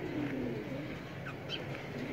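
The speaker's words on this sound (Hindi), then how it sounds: "ए फिरोजपुरी कबूतर है जी" Ferozpuri pigeon cooing, low soft continuous burbling close by, with a couple of faint chirps above, no talking.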